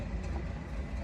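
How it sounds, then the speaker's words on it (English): An old car backing up on a city street, its low engine rumble steady and moderately close throughout the short stretch, with general traffic noise around it. "thankfully there's a nice little car here backing up"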